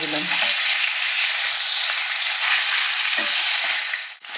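Pieces of shol fish (snakehead), rubbed with salt and turmeric, sizzle in hot oil in a kadai, a loud, steady, close crackling hiss that barely dips just before the end.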